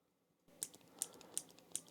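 Four crisp, faint clicks spaced about evenly apart, a Kuru Toga mechanical pencil's push button being pressed repeatedly in a quiet room.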